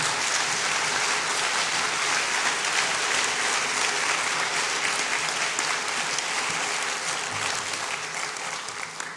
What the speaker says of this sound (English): If you could give them one more round of applause, I'd appreciate that